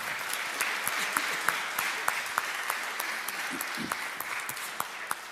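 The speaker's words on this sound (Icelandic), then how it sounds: "ég held að ættum að gefa kórnum gott klapp" A church congregation at a Sunday service applauds the choir, with dense, steady clapping from a sizable room and a few sharper individual claps standing out.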